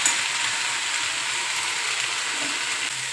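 Capsicum frying in oil for a gravy, a loud, steady close sizzle that keeps going without a break.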